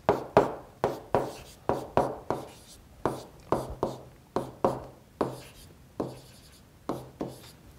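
A marker or pen writes on a board or paper in a run of quick, close strokes, each a short scratchy burst, repeating about every half second with brief pauses.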